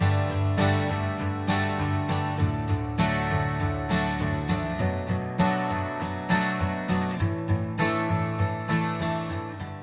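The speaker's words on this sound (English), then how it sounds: "And now I've got this acoustic guitar" A strummed acoustic guitar plays steady chords alone, each strum ringing out with bright, full tone at a moderate pace.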